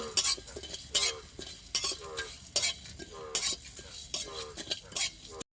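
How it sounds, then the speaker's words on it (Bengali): Bay leaf, coriander, cumin and garam masala are dry-roasted in a wok, a spatula scraping and stirring in quick repeated strokes with metallic clinks and a faint sizzle, close and clear. "ধনে জিরে গরম মশলা এবার কড়ার মধ্যে দিয়ে দেব মশলাটাকে আমি ভেজে নেব"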